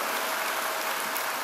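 Audience applause at a Rotary clubs' talk for female students in Vellore, a dense, even wash of clapping that stays loud and steady throughout, with no voices over it.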